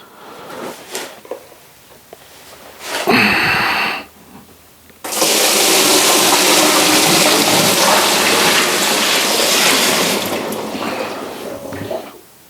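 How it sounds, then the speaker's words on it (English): A bucket of water poured into a Whirlpool Cabrio washer, a few clunks and a short splash, then a long heavy gushing pour that runs for about five seconds before tapering off with small knocks. "I'm going to go ahead, pour in a bucket of water."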